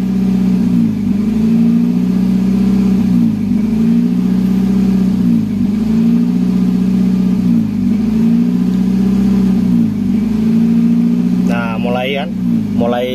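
A Nissan Grand Livina engine idles loudly and steadily during an idle air volume learn, its revs rising and falling in slow regular surges, with a brief higher whine near the end.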